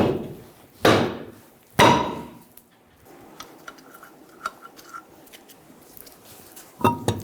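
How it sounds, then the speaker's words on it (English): A soft face hammer strikes the back of a wheel rim on a 2000-2007 Ford Focus: two sharp, heavy metallic thumps about a second apart, then quieter clinks and taps, then another knock near the end. "Using a soft face hammer, we're going to hit the rim on the back."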